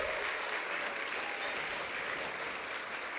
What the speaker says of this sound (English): let's give Miss Morris a round of applause